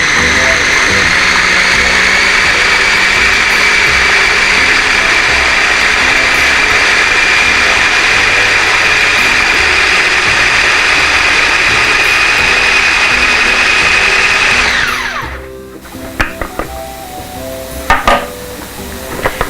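Avocado dressing churned in a food processor: a loud, steady high-pitched motor whine runs for about fifteen seconds, then winds down and stops, followed by a few light clatters.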